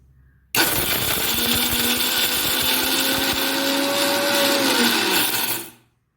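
A mixer grinder whirs loud and steady for about five seconds, blending beetroot chutney ingredients with soaked urad dal, tamarind and salt. The motor starts abruptly after a brief quiet moment and winds down at the end.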